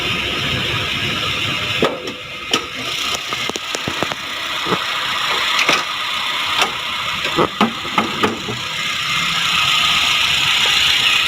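A 2005 Honda City VTEC engine idles with a steady low rumble, occasional clicks and knocks popping up over the continuous hum.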